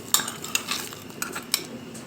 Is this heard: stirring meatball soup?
yes